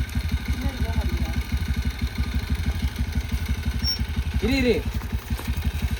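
A vehicle stuck in mud runs its engine with a steady, rapid throbbing pulse close by, while people talk over it and a voice rises briefly near the end.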